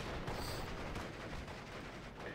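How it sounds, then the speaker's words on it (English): Mortar and gunfire in the World War II strategy game Steel Division: Normandy 44, a dense rumbling stream of distant blasts and rattling shots layered into a continuous battlefield din. "Dropping some mortars on them now"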